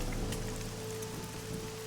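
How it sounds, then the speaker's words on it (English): Steady rain falling in the video game AI: The Somnium Files, a continuous even patter of drops on surfaces with no talk over it. "This rain is depressing."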